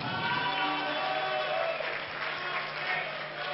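A crowd applauds and cheers at a wrestling gala in a hall, a dense continuous wash of clapping with a voice audible underneath throughout.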